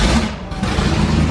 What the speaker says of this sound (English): All right, so the car's on the dyno running